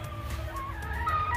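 Chickens cluck softly inside a backyard chicken coop, a few quiet calls over a low steady background hum with no speech.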